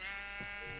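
Minecraft sheep gives a short, faint bleat over a steady hum of game background noise.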